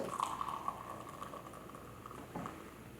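An alcoholic fizzy drink is poured, giving a soft continuous crackle of bubbles with a faint trickling tone, quiet and close.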